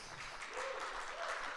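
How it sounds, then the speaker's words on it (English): A faint, distant round of audience applause at a North San Antonio Chamber candidate forum, steady clapping welcoming the House District 122 candidates, with a voice faintly heard through it. "Please give a warm welcome and a round of applause to our candidates"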